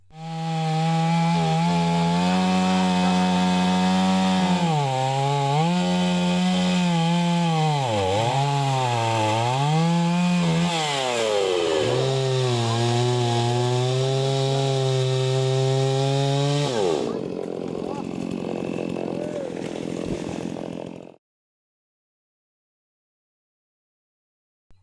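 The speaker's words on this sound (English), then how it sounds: "These chainsaws are available with the distributors of the companies" A chainsaw roars steadily for about twenty seconds, its engine pitch rising and dipping as it bites into wood, then cuts off abruptly to silence.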